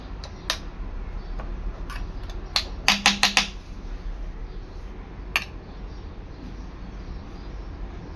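Spiced paste stuffing for tomatoes being mixed with a spoon in a bowl, heard as scattered light clinks and taps, with a quick cluster of metallic knocks midway, over a quiet kitchen background.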